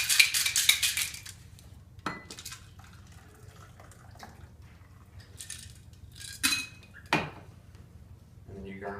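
A cocktail shaker full of ice is shaken for a dirty martini, giving a brisk burst of rattling at the start, then scattered clinks and clatter, and a voice at the end.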